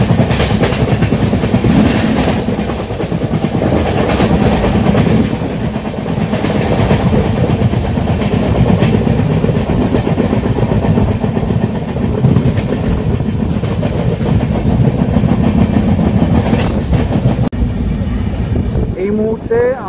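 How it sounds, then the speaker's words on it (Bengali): A Tamralipta Express train runs out from Santragachi station on the Howrah to Digha line, a loud continuous rumble with rhythmic wheel clatter heard from inside the coach, steady throughout with no talk. "আর আমাদের ট্রেন কিন্তু ছেড়ে দিল"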